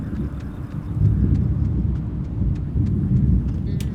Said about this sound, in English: And I do not like the sound of that rolling thunder.